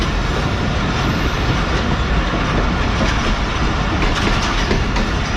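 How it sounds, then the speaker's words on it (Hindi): The Karachi Express passes Dig Road Junction at a 50 km/h caution speed in heavy rain, a loud continuous rumble and rattle of rolling train wheels heard up close without pause. "तो 50 किलोमीटर के कॉशन के साथ ट्रेन हमारी स्किप करने जा रही है डिग रोड जंक्शन को"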